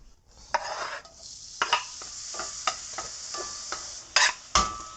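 Tomatoes dropped into a still-hot pan while cooking arepas, sizzling close and loud, with a series of sharp stirring and utensil clicks against the pan.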